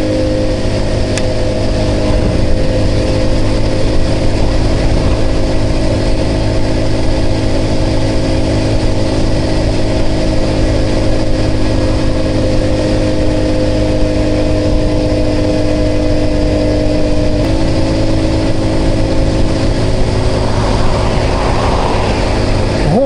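Orion vehicle driving on a road, a loud, steady engine drone and hum with constant road rumble running the whole time, close and uninterrupted, no talk.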